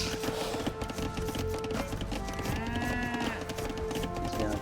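Cattle low a few times in a real-time strategy game, the moos sitting mid-level amid a busy bed of clicks, taps and other in-game effects.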